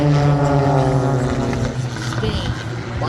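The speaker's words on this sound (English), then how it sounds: "Get your cameras ready as the team flies another signature maneuver, the corkscrew." Pitts Special aerobatic biplanes fly a corkscrew maneuver at an air show, their propeller engines droning loudly and steadily with a slowly shifting pitch, under an announcer's voice.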